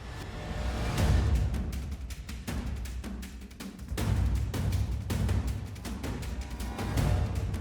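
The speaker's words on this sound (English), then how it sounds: "As you can hear, it's just drums" A drum beat with sharp, regular hits and a driving rhythm, playing alone without any other instruments or voices.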